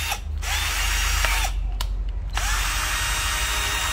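A cordless drill with 10 clutch settings and a drill mode, its motor whirring steadily and loud at close range, briefly cutting out and restarting a few times.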